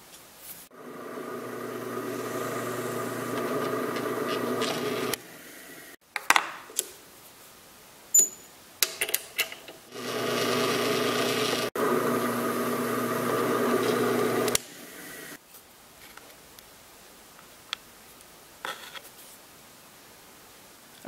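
Oiled brass hose nozzle pipe of small diameter clamped and cut with a power tool, giving two long steady grinding runs of several seconds each, broken by clunks, taps and handling noises between passes.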